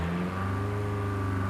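A jeep engine in the PUBG video game hums at a steady, low rev, a sustained droning tone at moderate level with no talk.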